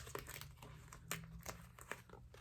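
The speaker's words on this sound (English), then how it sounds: "I gotta peel it off here" Vegan leather planner tabs being peeled off a sheet, a series of short crinkly, tearing rips and crackles at close range, with a steady low hum underneath.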